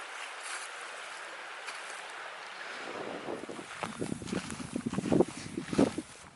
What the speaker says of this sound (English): You can hear the water running below me.